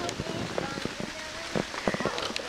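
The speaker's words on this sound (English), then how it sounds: "You see the rain?" Rain falls outdoors in a steady hiss, with scattered drops pattering close by on nearby surfaces and a faint murmur of movement underneath.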